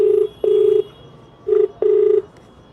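A telephone line rings out on a live Hindi news broadcast as a caller is put through: two paired tone bursts, each a short beep then a longer one, loud and close with silence between.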